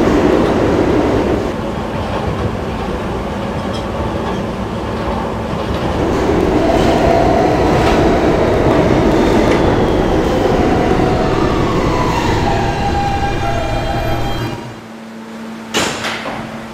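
An R160B subway car on the D train runs loudly and steadily with rumble, wheel clatter and rising motor whine, then the roar drops away near the end as the train slows, with a brief clunk.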